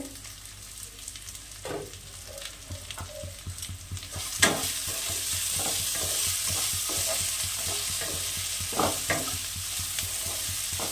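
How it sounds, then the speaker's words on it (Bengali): Potatoes and onion stalks fry in a pan with a constant hiss while a spatula scrapes and stirs in repeated strokes, close and fairly loud. "ঢেকে ঢেকে ভেজে নিয়েছি, ভাজাটা হয়েই এসেছে।"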